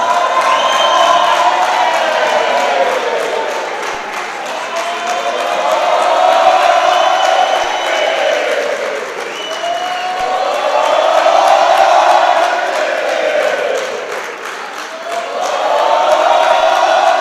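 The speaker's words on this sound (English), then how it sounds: "Can we clap hands?" A large youth league crowd at a political youth parliament event roars and cheers in rising and falling waves of massed voices, loud and continuous, with any clapping buried in the din.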